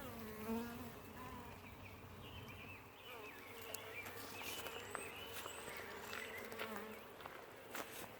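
A steady, dense buzzing of many honeybees close by during a hive brood inspection, continuous throughout, with faint rustling and a soft voice in the background.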